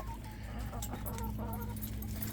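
Chickens cluck softly and intermittently over a steady low background hum, with a few brief sharper calls mixed in.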